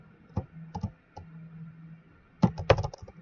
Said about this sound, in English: if you listen, if I hit my keyboard